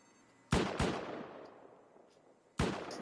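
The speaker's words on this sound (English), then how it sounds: "Teammate getting lit up by the turret" Automated turret gunfire in the video game Rust: two sharp, loud shots close together, a fading tail, then a third blast, heard without speech.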